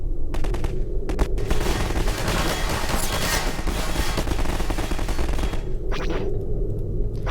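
A Star Wars blaster weapon in Garry's Mod fires in a steady burst, loud and close, shots coming at a moderate, fairly slow rhythm over a dense, continuous rumble.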